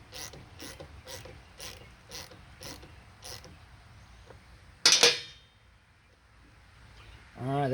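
Ratchet wrench snugging a fuel line fitting on a 1996 Ford Mustang GT: a run of quick, evenly spaced clicks, then a sharp clank and a short metallic scrape nearby.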